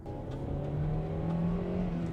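An MG3 small hatchback's petrol engine drones and strains steadily under hard acceleration, with a loud, continuous low hum that rises slightly in pitch throughout.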